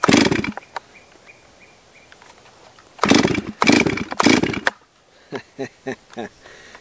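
A Stihl 036 MS360 chainsaw, a barn find running on old gas, gets pulled and fires in several loud near bursts of engine roar, with cutouts between attempts and a few sputtering pops at the end.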